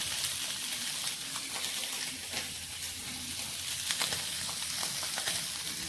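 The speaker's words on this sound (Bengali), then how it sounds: "গোল গোল একটু লাল লাল করে ভেজে নেব" Round potato pieces fry in hot oil in a wok, giving a steady close sizzle and crackle with small bursts of spitting throughout, no voices present.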